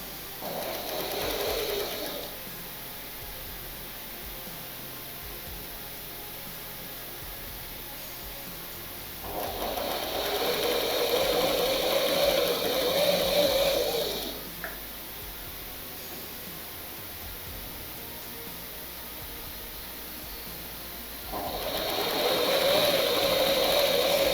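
Sewing machine running in bursts while hemming a folded handkerchief edge, a steady whirring hum with three distinct stitching runs separated by quieter pauses, no talking.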